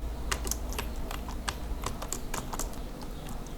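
Rapid keystrokes on a computer keyboard during Android Studio coding, with a final press of the Enter key; crisp, close clicks come in an uneven, steady stream over a low background hum.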